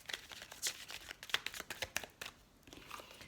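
Lenormand oracle cards being shuffled by hand: a run of quick, crisp riffling and slapping bursts, close and fairly quiet, with no talking.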